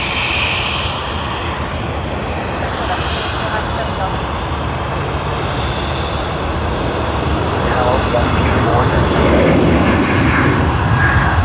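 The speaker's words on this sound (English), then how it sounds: "Sydney to Cairns service on the E190" An Embraer E190 jet on the Sydney to Cairns service roars steadily at Sydney Airport, a loud continuous engine rumble that swells slightly toward the end, with radio chatter and voices mixed underneath.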